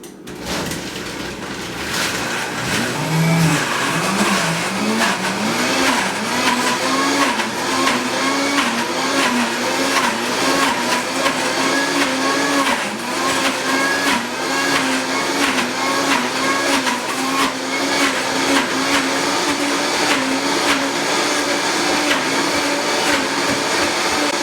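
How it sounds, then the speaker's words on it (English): A blender runs loud and steady for a long stretch while blending pesto, its motor whining and wavering in pitch as the mixture churns. "We'll start to blend it."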